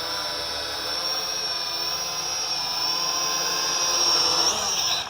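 A Helicute H806 Hoverdrone evo hexacopter drone flies nearby, giving a continuous high-pitched buzzing whine of small spinning propellers that shifts slightly in pitch and grows a little louder toward the end.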